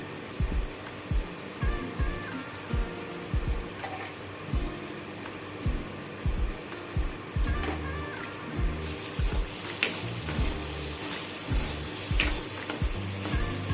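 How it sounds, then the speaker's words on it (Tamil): Ground coconut sizzles steadily in a hot pan while a spoon scrapes and stirs it in regular knocking strokes, close and clear with no talking. "இதை நல்லா கொஞ்சம் ஃப்ரை பண்ணி விடுங்க."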